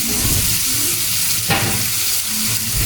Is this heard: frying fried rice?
yes